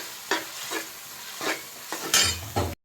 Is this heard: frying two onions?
yes